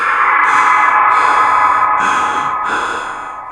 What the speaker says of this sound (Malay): Mulut dia terbuka luas sambil mengeluarkan bunyi nafas kasar.